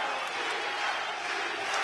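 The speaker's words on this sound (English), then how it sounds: "you can hear the crowd here giving it up for Slovenian hero Miran Fabjan" A dense, loud arena crowd roars and cheers without a break at a WFC 12 fight night in Slovenia, a steady wall of massed voices.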